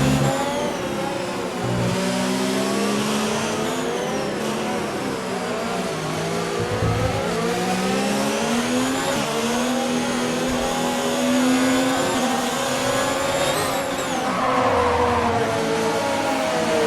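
An F1 car in F1 2019 at the Spanish Grand Prix drones steadily through the pit entry, its high engine note rising and falling with gear changes and easing as it slows, loud and continuous with no talk.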